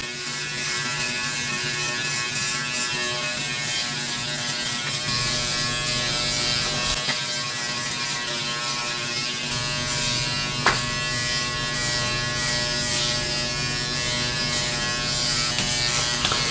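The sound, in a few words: Philips BodyGroom 1100 electric body trimmer trimming abdomen hair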